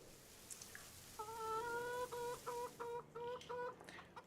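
Chickens in the game Farming Simulator 25 give a run of clear, clucking calls in quick succession, fairly near and rising above a quiet background hum.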